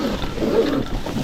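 Electric bike motor at full throttle, climbing a dirt hill through brush, gives a steady, loud rumbling roar that holds for just over a second with no talk.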